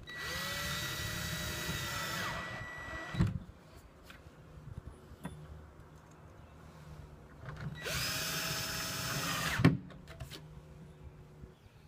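A power driver runs fasteners into a pre-drilled aluminum arch for a Waves & Wheels S2 install, with two loud whirring bursts of about two seconds each, both ending in a sharp click, separated by quiet pauses.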